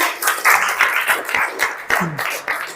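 Indonesian classroom of students applauding during a sociology lesson: dense, ragged clapping from many hands that keeps going for the whole short stretch, moderately loud, with a few brief voices mixed in.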